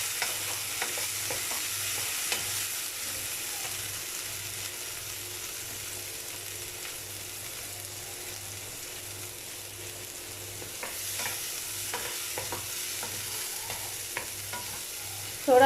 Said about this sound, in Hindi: अब मैं इसमें शामिल कर रही हूँ टमाटोज़, ये भी हाफ़ ऐड करेंगे, हाफ़ आप लोगों ने रख लेने हैं। थोड़ा सा इनको भी सौते करेंगे।